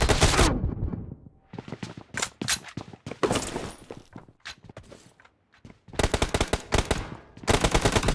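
Rapid bursts of automatic gunfire in the video game PUBG, loud and close, with short gaps between volleys and a quieter stretch before heavier firing resumes.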